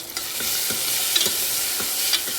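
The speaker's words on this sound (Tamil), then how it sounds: "வெங்காயம், தக்காளி, பச்சை மிளகா, பூண்டு போட்டு தாளிச்சிருக்கேன்." Onion, tomato, green chilli and garlic sauté in oil for an egg curry, a steady close sizzle punctuated by rhythmic spoon strokes against the pan, no voices.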